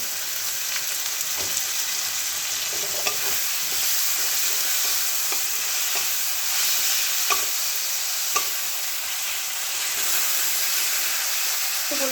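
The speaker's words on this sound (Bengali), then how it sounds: "বন্ধুরা এখানে আমার পেঁয়াজ আর টমেটোটা ভাজা হয়ে গেছে" Onion and tomato fry in a pan with a steady, fairly quiet sizzle and hiss, while soft, spaced clicks of a stirring utensil touching the pan occur throughout.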